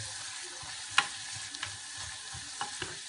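Butter sizzling in a pan after white wine is poured in, a soft steady crackle with a few sharp pops and a spoon stirring, faint and close.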